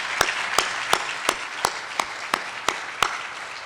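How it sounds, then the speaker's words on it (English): An audience at a school community report gives a round of applause for students and the music program, heard as steady, evenly spaced claps of about three per second, with no talk. "So I want to give the students and our music program one more round of applause."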